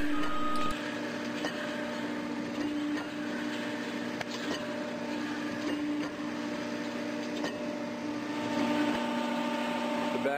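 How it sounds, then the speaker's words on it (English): The back gauge of a used 60-ton, 6-foot Accurpress CNC hydraulic press brake runs through calibration, giving a steady mechanical hum with a whirring drive and faint periodic ticks and clicks throughout. "The back gauge is now calibrating."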